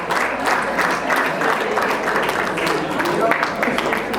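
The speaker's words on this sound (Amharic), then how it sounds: "አጨብጭቡ።" A crowd of guests at an apostolic wedding claps steadily together, a dense, continuous round of applause with a rhythmic pulse, mixed with voices talking throughout.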